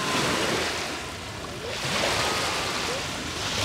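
Waves roll onto the shore of Lake Sevan in Armenia, a continuous wash of surf that swells, eases, then builds again, heard close with some wind on the microphone.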